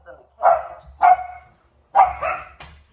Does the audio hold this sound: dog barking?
yes